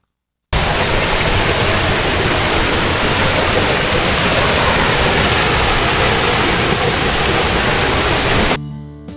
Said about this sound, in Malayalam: ഈ വെള്ളച്ചാട്ടം കൂടാതെ ഇവിടെ ഒരു പാർക്കും ചെറിയൊരു റെസ്റ്റോറൻറ്റ് ഏരിയ എല്ലാം ഉണ്ട്